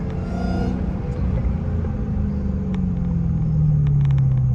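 A Dodge Hellcat engine rumbles close by, with a high whine rising above the drone and a falling pitch toward the end.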